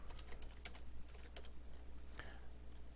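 Keys are typed on a computer keyboard while entering data in an Excel spreadsheet, producing a few quiet, scattered clicks over a low steady hum.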